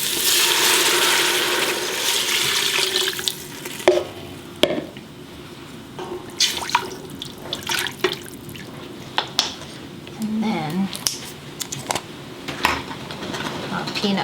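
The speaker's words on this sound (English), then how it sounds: "we'll add our beef stock." Beef stock poured into a pot of softened onions for oxtail kare kare, a steady splashing pour at the start, then scattered drips, clinks and bubbling while a person talks.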